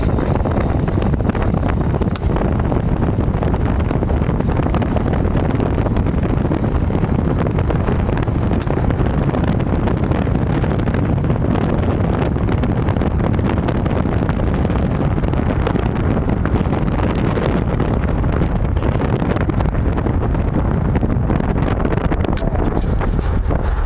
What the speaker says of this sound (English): It might be a little windy